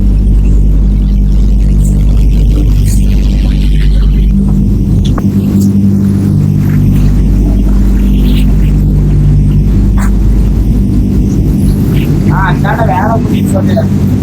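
A machine polishing silver anklets runs with a loud, continuous low hum and throb that stays steady throughout, close by, while a voice talks over it.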